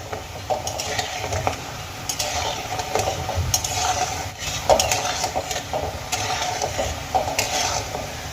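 Gulab jamun fry in oil in a pan, a steady soft sizzle under recurring scrapes and clinks of a stirring utensil, close up with no voices.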